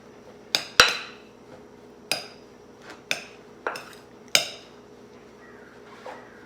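A metal utensil knocks and scrapes against a bowl while twice baked potato filling seasoned with salt and pepper is mixed, giving six or so distinct clinks at uneven intervals, close and fairly quiet.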